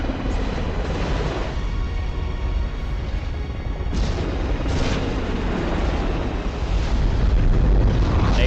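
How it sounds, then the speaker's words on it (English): Napalm explosions roar through a jungle battle in the film Tears of the Sun, a continuous, loud rumbling barrage of booms with several heavier blasts rising out of the dense low thunder. "Napalm is still exploding."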